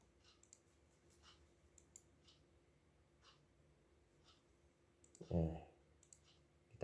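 Computer mouse clicks while working in SolidCam milling software within SOLIDWORKS 2020, a few faint, sparse clicks spread across a quiet background, with a louder sound near the end.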